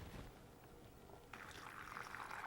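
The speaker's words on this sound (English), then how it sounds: "And pour the brine in" Brine poured into bags set over packed sauerkraut cabbage, a soft liquid trickle that swells into a fuller, steadier pour partway through, fairly quiet and close.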